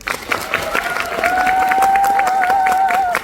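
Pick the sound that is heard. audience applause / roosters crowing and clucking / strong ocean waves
audience applause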